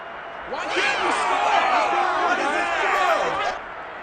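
Stadium crowd in the Madden NFL 22 football video game swelling into a loud, sustained roar with cheers and whoops, rising quickly and holding strong for about three seconds before cutting off.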